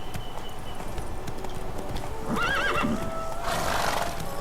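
Geralt's horse Roach gallops along with steady clip-clop hoofbeats in The Witcher 3: Blood and Wine, and a bright whinny rises over them partway through, with no talking.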